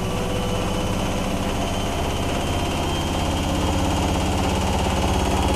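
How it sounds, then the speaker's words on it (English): A Miele W5748 washing machine on a full cottons 40°C load ramps up toward a 1200 RPM spin, producing a loud, dense mechanical roar with rapid pulsing vibration that grows slightly stronger, heard close with no voices. "We're ramping up now to 1200 RPM."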